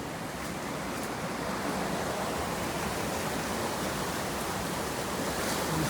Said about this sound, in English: you can hear the force of the river